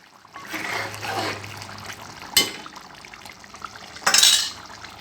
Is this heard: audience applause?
no